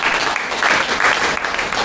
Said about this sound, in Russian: можно еще раз поаплодировать